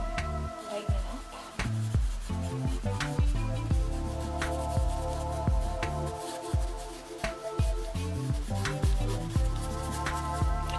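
A brush scrubs acrylic paint onto canvas in quick, repeated rubbing strokes, producing soft rasping scrapes with short pauses between bursts, close and fairly quiet, with no talking.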